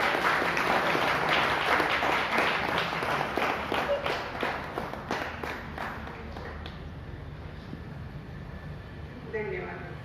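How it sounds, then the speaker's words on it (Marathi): Audience applause in a Sunday worship service at St. Saviour's Cathedral Church, Ahmednagar, for a young girl's second-place prize: steady clapping for about six seconds that fades out, then a brief spoken voice near the end. "आपण टाळी वाजवण्याने"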